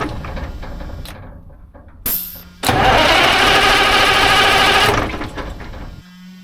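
Old 92-series diesel in a 1980 Peterbilt 359 truck cranks briefly, catches and roars loudly for about two seconds before cutting out, with a cranking whir before and after.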